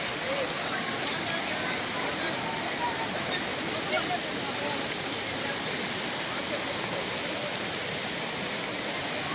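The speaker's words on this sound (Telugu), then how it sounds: "మెల్లమెల్లగానైతే వాటర్ ఫాల్స్ దగ్గరికి వెళ్ళిపోయాము" A waterfall in Chikmagalur roars as a dense, unbroken rush of falling water that stays loud and even throughout.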